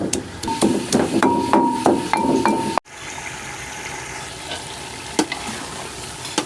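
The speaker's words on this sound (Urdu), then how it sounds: "گوبھی فرائی ہو رہا" Cauliflower fries in hot oil for aloo gobhi, a steady sizzle broken by sharp metallic clanks of a utensil stirring against the pan, then the frying continues more evenly.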